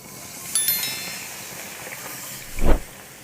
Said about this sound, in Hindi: 1 कप दूध डाल दूँगी